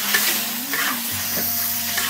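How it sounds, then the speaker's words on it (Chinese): Duck pieces stir-fried in a wok with bean paste, pickled ginger, pickled chilies, Sichuan peppercorns, ginger and garlic, giving a steady low sizzle with light scraping of the stirring, no talk. "给它炒香"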